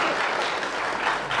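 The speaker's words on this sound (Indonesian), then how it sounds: "Tepuk tangan buat Tuhan Yesus." A church congregation claps together at a worship and healing service, a dense, steady burst of applause filling the space without talk.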